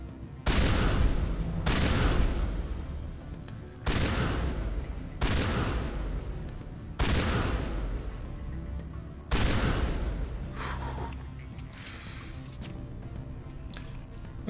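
Repeated heavy gunshots in Mass Effect fired at electronics, six loud booming blasts spaced a couple of seconds apart, each trailing off into a lingering tail with faint electronic debris sounds.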